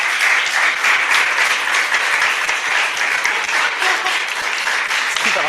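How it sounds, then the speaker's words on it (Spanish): Loud, close applause from an audience at a Lorca tribute event, honoring Clara and Ramón, dense clapping with a few louder individual claps, continuous for over five seconds and unbroken by speech. "lo primero que voy a hacer es pedir un fuerte aplauso para ambos"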